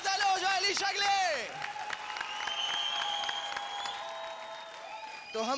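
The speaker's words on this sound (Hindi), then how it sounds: "जोरदार ताली हो जाए" Audience applause at a Dance India Dance show, steady clapping and crowd noise behind a sung melody and host talk that fade into sustained music tones.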